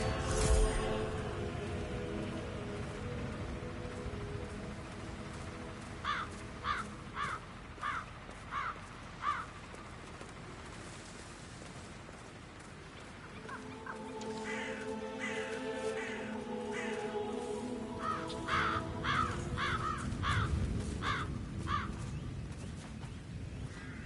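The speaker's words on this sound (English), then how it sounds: "Damn birds!" Crows caw in a game level of Hitman 3, repeated harsh calls in short bursts of several caws, with pauses between groups, over a low ambient background and no talk.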